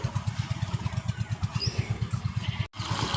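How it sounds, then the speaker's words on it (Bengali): Electric irrigation water pump motor running steadily beside a field of spiny gourd plants, a close, even rhythmic thumping chug with a brief cutout near the end. "এ দেখুন মোটর চালিয়ে দেওয়া আছে"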